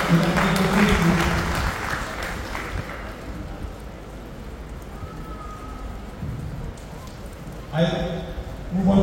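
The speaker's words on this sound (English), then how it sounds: "Give them a big round of applause." An audience at a Lions Club officer installation ceremony applauds loudly at first. The clapping dies down to a low murmur of room noise, then briefly rises again at the end.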